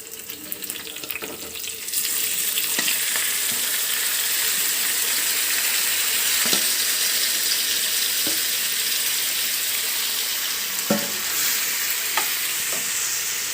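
Mashed chicken hits a hot pan and fries, setting off a loud, steady sizzle that holds throughout, marked by a few sharp clicks and stirring scrapes.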